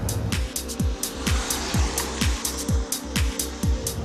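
2011 Nissan Murano 2.5 dCi Premium diesel with automatic transmission on the road, a steady engine and road drone with regular rhythmic thumps about twice a second.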